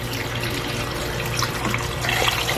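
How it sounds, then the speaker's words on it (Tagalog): Water pours steadily into a cooking pot holding ginger, onion, chili and tomato for a Filipino sour tamarind fish stew, a continuous close splashing rush. "Lagyan ng tubig."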